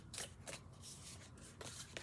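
Tarot cards being shuffled, giving faint quick riffling and rubbing bursts in an uneven rhythm, close but quiet with no talk.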